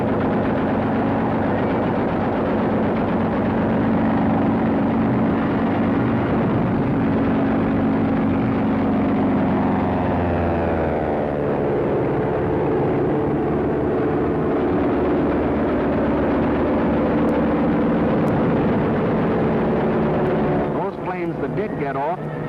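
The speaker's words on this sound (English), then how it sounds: "the planes of the Luftwaffe were over Poland, wiping out the Polish Air Force" Luftwaffe warplanes over Poland in 1939, heard as a loud continuous propeller-engine drone whose pitch sweeps and shifts as aircraft pass overhead, with a rough archival film sound.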